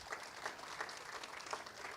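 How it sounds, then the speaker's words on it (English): An audience claps steadily, a dense patter of many hands at moderate volume, with no voices over it. "give our panelists a round of applause"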